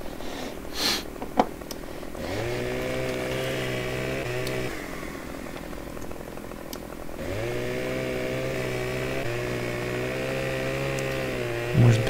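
Chainsaw cutting a gnarled tree in the video game Farming Simulator 15, a steady buzzing engine drone that holds for a couple of seconds, drops out briefly, then resumes, loud and close with no talking.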